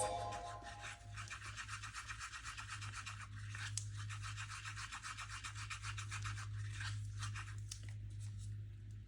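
Epoxy resin being stirred and mixed in a cup for a crackle coaster, a close, quiet, continuous scraping and rubbing with repeated strokes.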